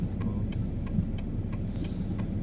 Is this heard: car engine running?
yes